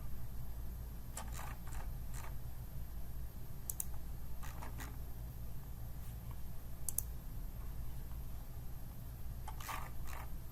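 Sparse computer mouse clicks, single and doubled taps scattered over a steady low room hum while drawing a box in CAD software.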